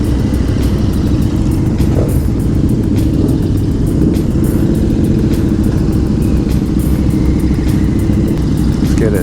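A KTM motorcycle engine running on a street, a steady close rumbling idle that holds even and loud throughout, with no talk.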